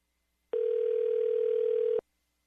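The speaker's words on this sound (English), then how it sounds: "I'm going to call him right now" Steady telephone dial tone, a single continuous hum lasting about a second and a half, clear and alone with silence before and after.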